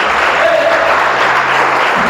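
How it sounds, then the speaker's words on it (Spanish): A church congregation claps together in a dense, steady burst of applause that fills a short moment, loud and close with no pause. "Denle un aplauso al Señor."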